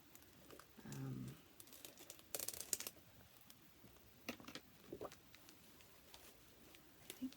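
Crinkling and rustling of paper and plastic wrap as a stamping-supply product package is opened, quiet crackles scattered through the clip with a brief burst of louder tearing rustle near the middle.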